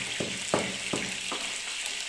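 Ingredients for a gooseberry (nellikka) pickle frying in a pan, a steady sizzle broken by a few sharp scraping stirs at regular intervals, close and moderately loud with no voices.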